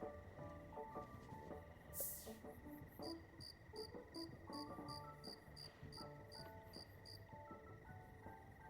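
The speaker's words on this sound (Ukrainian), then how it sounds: "Якісь цвіркуни на фоні." Crickets chirp steadily at night in the life-simulation game The Sims 4, a regular pulsing trill of short repeated bursts held at an even level over a soft ambient game background, with one brief louder swish partway through.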